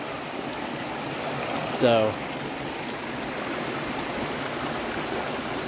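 Steady rushing hiss of a river flowing over stones in the Appalachian backcountry, a constant broadband wash of water close by, with someone briefly saying a word over it.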